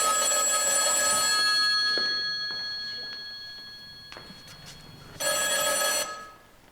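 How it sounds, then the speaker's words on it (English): An old-style telephone bell rings in two loud bursts separated by a quiet pause with faint ticking, heard indoors on a theatre stage with no talking. "The phone rings."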